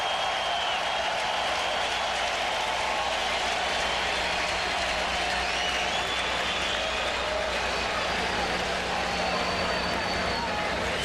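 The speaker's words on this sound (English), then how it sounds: "And a sarcastic cheer from the crowd." A baseball crowd at Wrigley Field gives a sarcastic cheer, a wide, distant swell of clapping and crowd noise under a commentator's talk.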